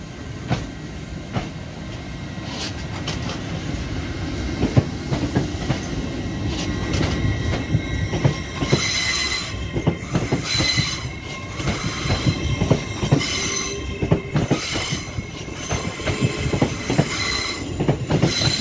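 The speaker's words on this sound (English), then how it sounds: "This train has 6 coaches." A six-coach passenger train passes through Doncaster station, loud and close, with rumbling wheels, clickety-clack over rail joints and squealing wheels that build and hold for the full length.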